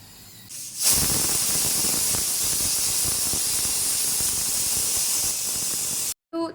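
A loud, steady steam hiss blasts from a pressure cooker cooking chicken curry for several seconds, then cuts off abruptly near the end.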